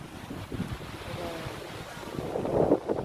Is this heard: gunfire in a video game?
no